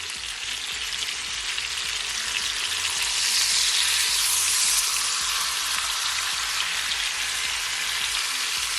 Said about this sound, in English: I'm gonna add my pork shoulder, and I'm just gonna allow it to fry for at least 4 minutes on each side